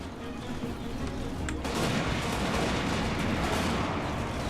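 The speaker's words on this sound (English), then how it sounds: "So I want the Thunders to shoot at these guys now." Dwarf Thunderers open fire with guns in a Total War: Warhammer battle, a dense, sustained rumble of gunfire and booming shots that swells after a brief pause and continues loudly throughout.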